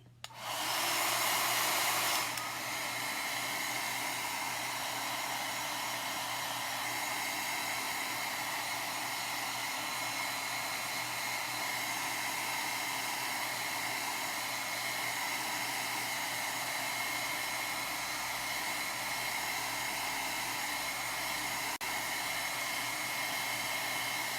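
A hair dryer blows steadily and loudly, close up, drying a chalk transfer; the airflow holds one even roar throughout with no talking.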